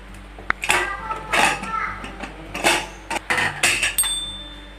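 A pressure cooker lid is opened after cooking rice for a sweet jaggery rice cake, giving a series of close metallic clanks and scrapes with short pauses between them.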